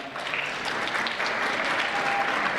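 A high school audience at a winter sports award ceremony claps and cheers steadily throughout, a dense, sustained wash of applause with no pauses.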